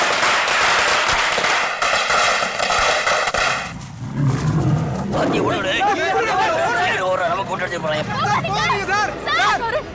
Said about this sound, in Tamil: வெடியை கொளுத்தி போடுங்க